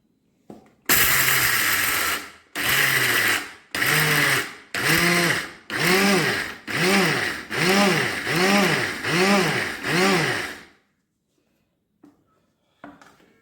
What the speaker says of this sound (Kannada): ಮಿಕ್ಸಿ ಒಳಗೆ ಸಣ್ಣ ಮಾಡೋಣ ಬರ್ರಿ